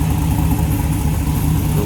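A 1967 Chevrolet C10 Stepside V8 pickup with side dump exhaust, a close, steady low engine rumble idling throughout, deep and throbbing, with no voices.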